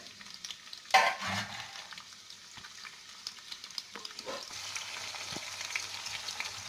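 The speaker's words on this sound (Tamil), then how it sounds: "ஒரு வெங்காயம் போட்டுக்கலாம். வெங்காயம் நல்லா வதங்கட்டும்." Onion sautés in a pan for mutton keema, a soft sizzle with brief stirring and a clatter near the start, then a steady low frying hiss continuing without talk.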